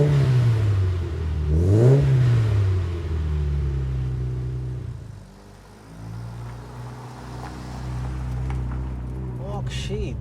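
A Mitsubishi Evolution's engine drones loudly and close, rising and falling through revs, dipping briefly midway, then climbing again under a steady rumble.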